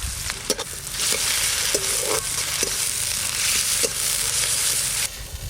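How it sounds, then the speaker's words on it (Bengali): Chopped onion and green chili frying in hot mustard oil, a loud, steady sizzle broken by occasional scraping taps of a spatula stirring the pan. "গরম তেলে পেঁয়াজ আর কাঁচা লঙ্কা হালকা করে নেড়ে নিয়েছি"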